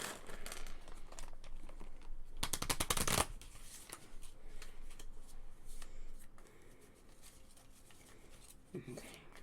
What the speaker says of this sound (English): And just shuffle up those Holloman cards.